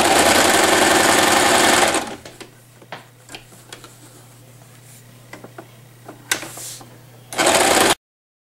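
A sewing machine runs a double stitch along the shorter end of a thin fabric headband with elastic, loud and steady for about two seconds, then quiet handling and faint clicks before a second loud burst of stitching.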